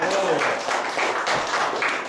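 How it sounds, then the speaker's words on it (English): A church congregation clapping together in a worship service, steady broadband applause filling the room, mixed with some voices. "Clap on that."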